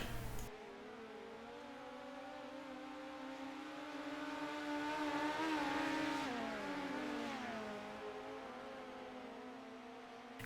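Midget race cars circle a slick dirt oval in a sim racing game at Limaland, one engine droning steadily, swelling in pitch and loudness toward the middle and then easing off, with no voices over it.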